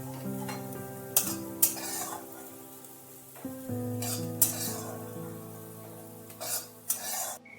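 Potatoes with poppy seeds fry in a wok over a steady sizzle, punctuated by intermittent scraping stirs of a spatula against the pan, close and without talk.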